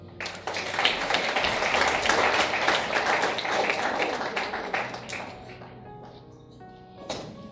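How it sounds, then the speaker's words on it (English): An audience at a Kenyan moot court competition final claps after an award is presented. The applause is a lively burst of many hands that swells and then thins out, with a few last claps trailing at the end. "A round of applause."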